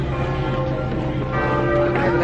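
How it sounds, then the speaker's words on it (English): Church bells in Bruges ring steadily and loudly, their sustained tones layered and overlapping without pause, with faint background noise beneath. "So, hear the bells."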